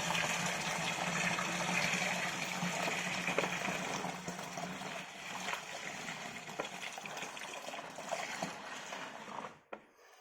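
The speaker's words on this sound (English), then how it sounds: "fill up the bucket we just sanitised, with cold water" Cold water gushing from a tap into a sanitised bucket, a loud steady rushing pour that eases and changes tone as the bucket fills, ending with a brief clunk and near silence.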